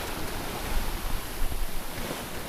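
Steady broadband rush of offshore wind at about 17 knots gusting 20 on a single-handed sailboat far out at sea, with wave wash beneath, swelling slightly in gusts; no talking.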